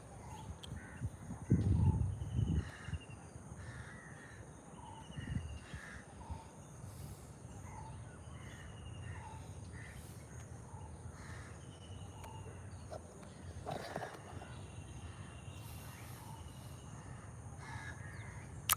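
Crows caw intermittently in a Colombo cemetery in the morning, with scattered calls, some near and some farther off, over a constant hum of insects and faint distant background noise.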